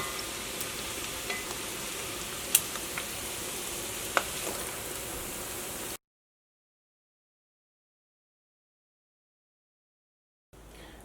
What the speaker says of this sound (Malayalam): നമ്മുടെ രണ്ടാമത്തെ ട്രിപ്പ് മീനും ഇതാ നന്നായിട്ട് മൊരിഞ്ഞു തുടങ്ങിയിട്ടുണ്ട്